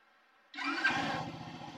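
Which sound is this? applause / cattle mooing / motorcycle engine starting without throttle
motorcycle engine starting without throttle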